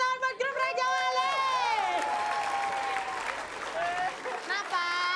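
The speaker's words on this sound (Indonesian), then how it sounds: "kita kasih tepuk tangan buat grup Raja Wali" Studio audience applause for the Raja Wali group on a comedy show, a continuous wash of clapping and crowd noise under loud, animated voices talking and laughing.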